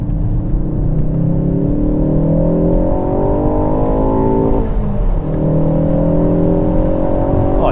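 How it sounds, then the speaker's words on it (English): A tuned 330bhp Mk4 Ford Focus ST accelerating hard in second gear on a slip road, engine note climbing loud and close, a brief dip at a shift, then rising again. "Get it on a straight bit of road and plant the accelerator"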